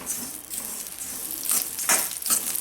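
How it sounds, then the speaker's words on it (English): Roasted oats fry in ghee in a pan with a soft, steady sizzle, broken by a few brighter stirring scrapes and crackles, close and fairly quiet, with no voices. "just fry that in the ghee"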